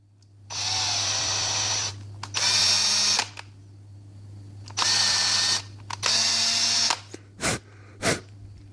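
A power drill with a bit bores into an Xbox One controller shell, running in four sustained high-pitched bursts, each several seconds long. Two short blips follow, all close up and loud, with a steady low hum underneath.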